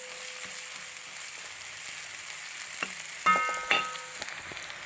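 Upma of roasted rava (semolina) sizzles and fries in a pan, Kerala style, with a steady soft hiss and a few sharper scraping clicks as it is stirred near the end; no one talks.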